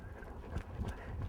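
A horse working quickly back and forth across a show training pen with a mechanical cow, its hooves giving faint, uneven clip-clop thuds at a distance.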